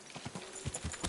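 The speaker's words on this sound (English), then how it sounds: "Your horse nearly trampled me." Horse hooves clip-clop at a steady walking rhythm in the medieval video game Kingdom Come Deliverance 2, soft and fairly close, with no talk over them.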